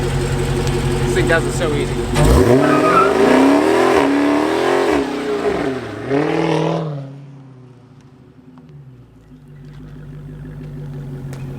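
A 2019 Dodge Hellcat being broken in revs hard once, its loud engine snarl rising and falling over a few seconds before settling back to a low idle, while someone talks over the sound.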